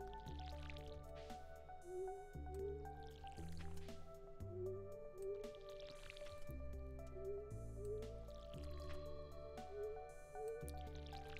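Cranberry crops in the Stardew Valley video game are watered with a can: soft splashing and dripping bursts repeat every couple of seconds beneath steady, melodic background game music.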